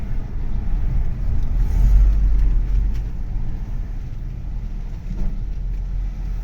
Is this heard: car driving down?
yes